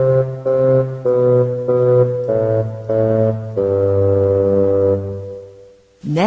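A bassoon plays a slow sequence of low, sustained reedy notes, each held separately before a longer final tone that fades, heard alone and up close.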